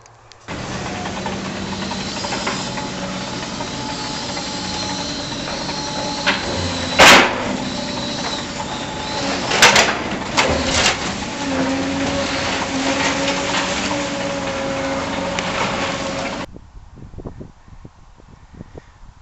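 A loud, continuous mechanical drone with hissing and occasional sharp metallic knocks, a drilling machine boring a pipe from a shaft beneath fields along the Tissington Trail, running steadily before cutting off near the end.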